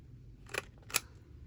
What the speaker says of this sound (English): I'm going to round the corners on the top before I put the other on